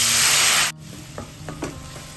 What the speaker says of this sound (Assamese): এতিয়া এই তেলত অলপ দিছোঁ গেছটো একেবাৰে ল' ফ্লেম কৰি ধনিয়া গুড়ি জিৰা গুড়ি কাশ্মীৰী মিৰ্চ